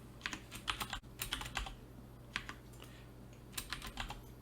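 Quiet, close typing on a computer keyboard while entering a command at a Windows command prompt, with irregular bursts of clicking keystrokes separated by short pauses.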